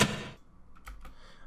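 A single sharp switch-flick click rings out with surround reverb tail, followed by a couple of fainter echoing taps, all fairly quiet.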